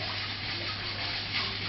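Cooling water rushing through the condenser pipe of a reflux still with an 800mm, 2.5-inch column, a steady loud gushing flow with no break.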